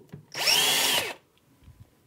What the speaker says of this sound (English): I'm going to pre-drill these holes into the carcass before I fit them into position